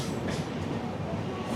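Another train runs on the opposite line, heard from aboard an express train's 2A coach between Wadi and Daund. Brief, steady, low rolling rail rumble at moderate distance.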